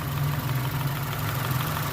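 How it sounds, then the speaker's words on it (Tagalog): A 2021 Honda City automatic's engine idles steadily with a low, smooth, very quiet hum, close by and without variation. "Napakatahimik ang kanyang andar. Parang hindi umaandar."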